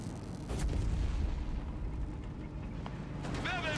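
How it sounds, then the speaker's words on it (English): Autocannon fire in the WWII strategy game Company of Heroes 3, a rumbling, continuous barrage of heavy booms and low thuds under battle noise, steady and loud throughout, with a brief voice near the end. "Moving forwards there with its 420mm autocannons ripping into the American infantry there"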